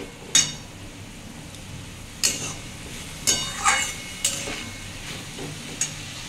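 Banana blossom curry with cumin and soaked raw chickpeas sautéing in a pan, a low sizzle broken by a handful of sharp spoon scrapes and clinks against the pan at uneven intervals, close by.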